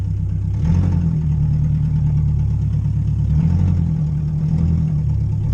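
A rally car engine runs steadily, idling with a low hum and rising briefly twice as if revved lightly.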